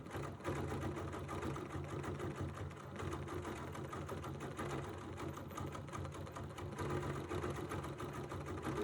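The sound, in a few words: sewing machine stitching couched fibers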